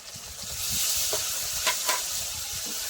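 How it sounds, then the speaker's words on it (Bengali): Spices with ginger-garlic paste, cumin and chilli powder frying with tomato puree for a paneer curry, a steady close sizzle with a few sharp spatula scrapes as it is stirred. "মশলাটা ভালো করে একটু কষিয়ে নেব।"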